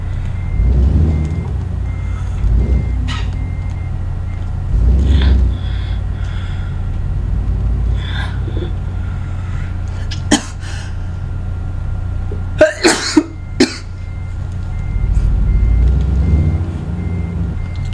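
A semi truck hauling 41,000 lbs of sawdust in American Truck Simulator backs up, its faint steady reversing beeps repeating over a low engine rumble, with a few sharp clicks near the end.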